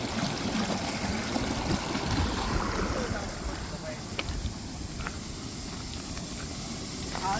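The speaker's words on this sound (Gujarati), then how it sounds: "આવું કંઈક જાય પાણી" Rainwater from heavy rain rushes steadily through a village channel, a close, continuous gushing flow with a few faint knocks over it.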